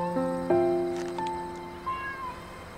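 Several kittens meow in overlapping, high-pitched cries, a few close calls over a couple of seconds, with no talking.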